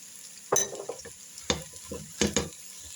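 Mixed vegetables being sautéed in a pot for a vegetable soup, with black pepper and chilli flakes added, three clear bursts of stirring and spoon scraping over a light sizzle.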